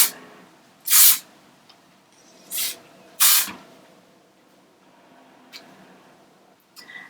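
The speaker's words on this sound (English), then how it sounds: "I'm going to go in again with that same hairspray that I used before and just spray it through the lengths of my hair." Hairspray is sprayed through the lengths of long hair while waves are styled. Three short hissing bursts come close by, the first the longest, with quiet gaps and faint handling sounds between them.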